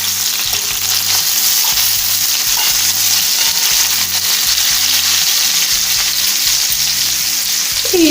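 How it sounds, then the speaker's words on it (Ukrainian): Steady loud sizzling of meat-filled waffles frying in hot oil on low heat, with crackles and pops continuing throughout, no voices. "але так шкварчить, стріляє, якась попалась олійка скажена"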